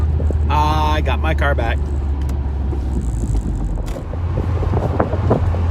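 An Audi TT drives home on the road, heard from inside the cabin as a steady low engine and road drone with constant wind rush, while a voice speaks briefly near the start.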